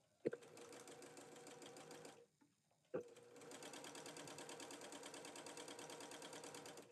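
A sewing machine stitches a mini charm bow in two close, steady whirring runs, separated by a short pause with a click at the start of each run.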